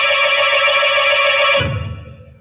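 A telephone rings with a bright, loud, sustained bell tone for about a second and a half, then cuts off abruptly, leaving a low rumble fading away.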